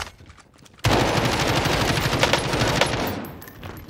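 Rapid automatic gunfire in the tactical shooter Valorant bursts in suddenly after a quiet start, a dense, loud volley of shots that rattles on for about two seconds and then tapers off.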